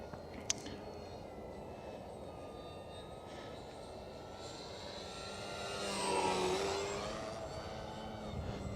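Model airplane engine at full throttle during a dive, a faint distant drone that swells to a louder whine as the plane passes closer, then fades slightly.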